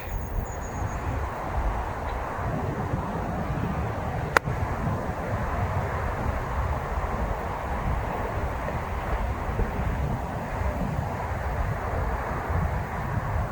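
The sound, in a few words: strong breeze blowing on a golf course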